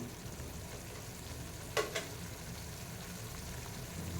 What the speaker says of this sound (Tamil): நல்லா கொதிக்குது தண்ணி